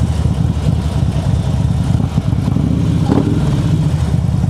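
Harley-Davidson motorcycle engine running with a steady low rumble and revving close by at a speed carnival in Malaysia, a brief rise in pitch near the end.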